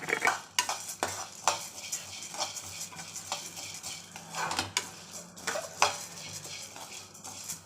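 Spices dry-roasting for sambar powder in a pan, stirred with a metal spoon: repeated scraping clatters and clinks against the pan over a faint, steady roasting hiss, close and fairly loud.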